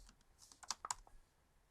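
Quiet typing on a computer keyboard, a brief cluster of soft, uneven keystroke clicks close to the microphone, with no talk.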